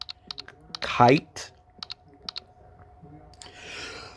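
Quick bursts of keyboard typing into a Google Play Store search bar, sharp close clicks in short clusters, interrupted by a brief spoken word and ending in a soft rustle.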